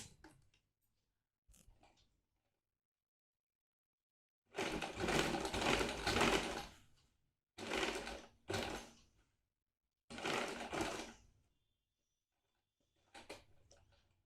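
Sewing machine stitching a drawn line on fabric for a yoke, running in several short bursts of rapid mechanical whirring separated by pauses, close and clear, with no talk.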